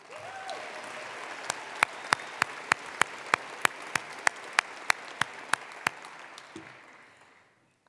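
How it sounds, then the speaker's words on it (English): An audience at a college address applauds its faculty, steady crowd clapping with a run of sharp, evenly spaced hits standing out, then fading to quiet near the end. "Let's have a round of applause for our faculty."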